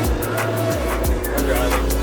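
A car driving on a road in Florida, with a steady engine drone and shifting tonal whine as it moves, plus tire and road noise, sounding close and continuous.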